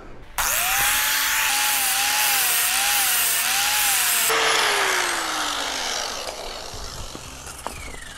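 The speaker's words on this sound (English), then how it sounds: "And grind her down." Angle grinder grinding down a flux-core weld, a loud, steady high-pitched whine with wavering pitch that drops and winds down toward the end, followed by a few light clanks.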